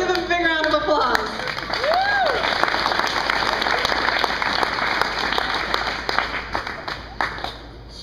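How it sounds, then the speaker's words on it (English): Lively crowd applause with clapping, a whistle and scattered cheers and whoops at a live comedy-style event, steady and fairly loud for several seconds, with voices mixed in. "let's give him a big round of applause"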